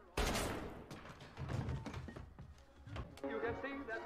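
Gunfire from the film Joker (2019): a sharp bang followed by a few scattered shots and thuds, faint and mixed with movie sound and people talking.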